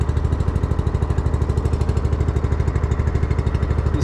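The engine of a VSI Legacy Series 750 liquid deicing sprayer runs steadily at close range, a loud, even, rapid chugging like a small mower engine.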